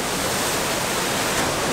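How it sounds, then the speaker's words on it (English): El Payón de Diablo waterfall in Baños rushes in a steady, broadband roar that stays dense and constant at moderate loudness throughout, with no voices. "Let's say ciao ciao to this amazing waterfall"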